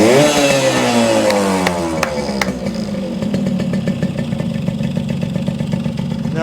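A 1974 Yamaha RD60 two-stroke motorcycle engine kicks into life, rising briefly in pitch before settling into a steady, buzzy idle with rapid regular firing pulses, loud and close with no talking.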